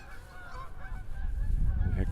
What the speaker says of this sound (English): here comes a gaggle of Canada geese flying through.